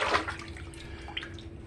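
Fresh okra is lifted out of a bowl of soaking water with a brief splash at the start, followed by scattered light drips and trickles falling back close by.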